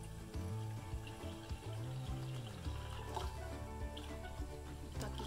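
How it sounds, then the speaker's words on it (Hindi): Water pours into a cooking pan to boil chicken, a faint, continuous splashing trickle with small drips, close by and quiet. "सो आपको चाहिए पैन और उसमें पानी डालिए"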